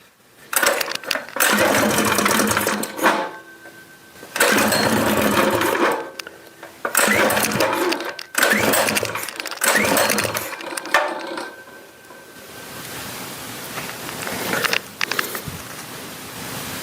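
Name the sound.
small gasoline engine running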